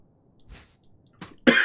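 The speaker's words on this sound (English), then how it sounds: "Stop coughing" A few coughs in the Resident Evil remake game: a faint one, then a sharper throat-clearing cough, then a loud close cough at the end, with near silence between them.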